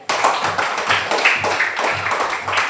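Students in an Indonesian classroom clap for a classmate, a brief, close and fairly loud round of hand clapping with a rhythmic, slightly uneven beat.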